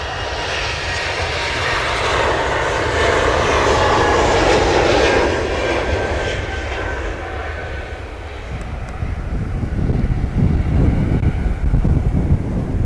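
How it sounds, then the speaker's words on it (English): Strong wind buffeting a microphone at Manchester Airport, a loud continuous roar mixed with aircraft engine noise, swelling and easing over time, with gusty bursts toward the end. "Blimey, that wind."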